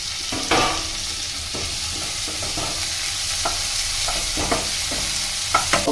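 Tomatoes frying with onions in a pan for mutton curry, a steady sizzle broken by scattered scraping stirs, close and fairly loud with no talk.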